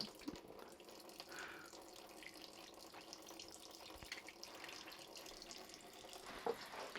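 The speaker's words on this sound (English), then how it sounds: "Obviously this is coolant, you can't pour this down the drain, so I'm collecting it in this bucket" Motorcycle coolant from a Suzuki DRZ400SM draining into a collection bucket, a steady faint trickle and pour of liquid running continuously, with a brief drip or splash near the end and no talking.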